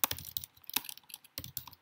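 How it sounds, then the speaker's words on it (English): Quick bursts of typing on a computer keyboard, close up, with short pauses between clusters of key clicks and no voices. "Back to not typing well."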